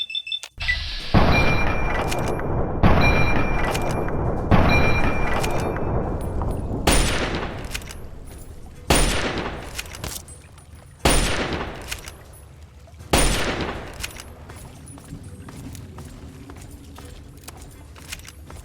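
Heavy gunshots in Fallout 3 while a mercenary is shot: a series of loud, separate blasts spaced a second or two apart, each ringing out and decaying, with fainter ambient noise after the last shot.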